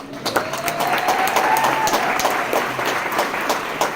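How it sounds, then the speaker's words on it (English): Applause from the crowd at a high school graduation ceremony, dense and lively clapping with a few sharper nearby claps and a faint whistle or cheer rising through the middle. "So just a round of applause for Ms."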